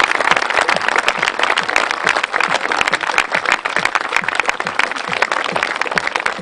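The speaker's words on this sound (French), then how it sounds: "Monsieur Alain Juteau, qu'on peut applaudir." Audience applauding at an outdoor fashion show in a manor park, a loud, dense wash of clapping from a sizable crowd that continues evenly for several seconds, close and without talk.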